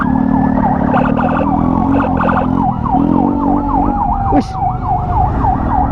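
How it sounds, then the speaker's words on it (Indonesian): A wailing ambulance siren sweeps up and down steadily in Indonesian road traffic, loud and close, over engine rumble, with a brief exclamation from a person and a short horn-like blip near the end. "ketika ada ambulan urgent melewat"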